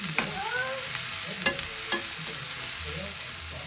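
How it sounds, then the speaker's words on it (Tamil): Onions frying in a pan until soft and golden: a steady, close sizzle under occasional stirring scrapes, with faint background noises and no talk. "வெங்காயம் நல்லா சாஃப்டா பொன்னிறமா ஆகட்டும்."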